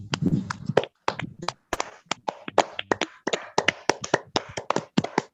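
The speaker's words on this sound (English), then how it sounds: "could you unmute yourselves and give a round of applause to our convener?" Applause from an online audience of meeting participants greeting the convener: scattered, uneven claps and taps arriving through unmuted microphones, a steady run of separate sharp hits rather than a dense crowd roar, moderately loud.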